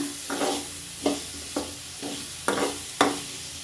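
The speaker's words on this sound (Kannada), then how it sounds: "ಟೊಮಾಟೊ ಚೆನ್ನಾಗಿ ಫ್ರೈ ಮಾಡ್ಕೊಳ್ಳೋಣ." Chopped tomatoes frying in a pan for a potato brinjal sabzi, a steady sizzle broken by five scraping stirs of a spoon at irregular intervals, close and fairly loud with no talking.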